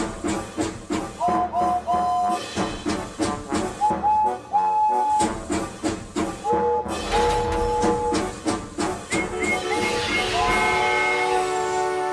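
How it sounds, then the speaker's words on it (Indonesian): Animated steam train chugs along the rails in a steady, rhythmic puffing beat, close and loud, with whistle-like tones and music layered over it. "Lalu dia mendengar kereta besar mengepul di atas rel."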